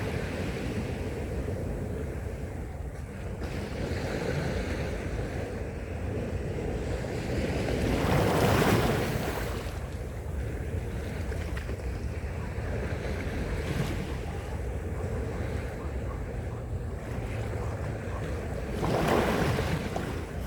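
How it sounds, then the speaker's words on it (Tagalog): Waves wash in and retreat at a steady pace on Middle South Bay Beach, Repulse Bay, Hong Kong, with a constant windy rush over the microphone and swells rising every several seconds. "Daloy ng tubig na lang ang maririnig."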